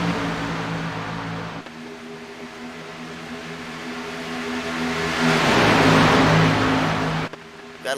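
Race car engines drone in superspeedway racing in a video game at Atlanta, a steady multi-car hum that swells into a louder rushing whoosh as a pack passes close, then cuts off abruptly near the end.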